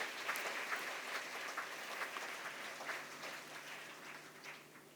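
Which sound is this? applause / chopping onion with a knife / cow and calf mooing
applause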